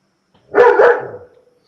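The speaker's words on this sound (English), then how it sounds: "Whose dog's that?" A single dog lets out a short double bark that trails into a brief whine, close and fairly loud, with no talk over it.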